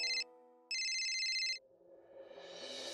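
A phone's ringtone trills in two bursts, a short one then a longer one, loud and alone, before the ringing cuts off and a dull background murmur rises.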